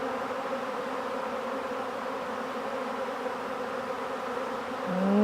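A honeybee swarm buzzes steadily near a box, a dense, continuous drone that holds evenly and swells slightly louder at the very end, with no voices.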